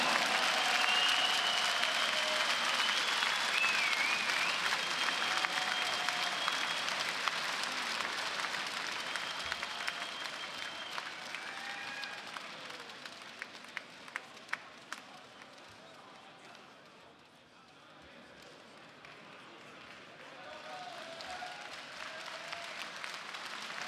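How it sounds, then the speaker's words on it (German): Big crowd at a knockout boxing night applauding both fighters, a dense sustained roar of clapping that holds steady, then dips and swells again, with a few sharper claps and faint voices in the mix. "einen großen Applaus, big applause for both fighters on this evening"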